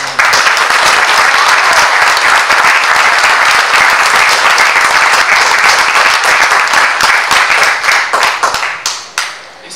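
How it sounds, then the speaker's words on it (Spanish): A crowd at a TV series launch presentation applauds loudly and steadily for several seconds, then the clapping thins out into scattered individual claps before stopping. "un gran aplauso para este gran momento"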